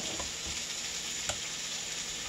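Apple pieces sizzle gently in a frying pan while being moved around, producing a continuous soft hiss with a few faint scraping taps.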